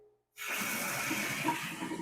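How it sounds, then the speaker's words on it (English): Water gushes steadily from a tap during aquarium water changes, after a brief moment of silence, a continuous close rushing hiss. "Turn on the water."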